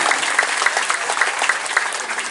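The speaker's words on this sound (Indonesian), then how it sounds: "kasih tepuk tangan, biar tetap semangat" Audience at a school student farewell ceremony in Semarang claps steadily and briskly, a dense close-up patter of many hands that carries on without voices.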